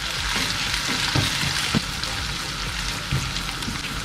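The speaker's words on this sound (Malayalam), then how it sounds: "മാറ്റി വെച്ചിരിക്കുന്ന ഇഞ്ചി ആഡ് ചെയ്ത് കൊടുക്കുന്നു." Ginger is added to a hot pan while cooking Nilambur-style dried beef, and it sizzles and fries with a dense, continuous crackling hiss. A few faint stirring knocks sound in the pan along the way.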